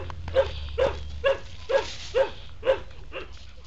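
A Lab mix dog at an animal shelter whimpers and yips in a steady series of about seven short, nasal cries, close and moderately loud, with no talking.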